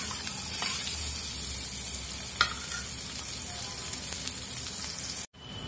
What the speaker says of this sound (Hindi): तेल गर्म होने के बाद जीरा,